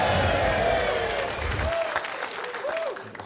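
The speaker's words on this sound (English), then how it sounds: "sort of muffled applause then." Dull, muffled applause from a television football show studio audience that fades out partway, followed by a quieter stretch with faint voice-like sounds.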